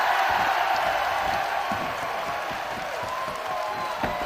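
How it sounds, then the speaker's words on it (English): A wrestling show crowd cheers and roars steadily throughout, a broad sustained wash of many voices that eases slightly toward the end, with no clear talk over it. "listen to this crowd"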